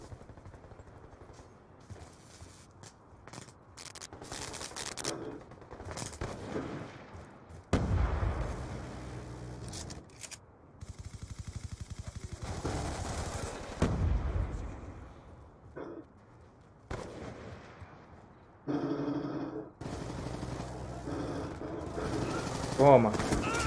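Gunfire in Call of Duty Black Ops 2 on PS3 during an online match: repeated bursts of shots and heavy booms, some sharp and some muffled, with quiet gaps between volleys.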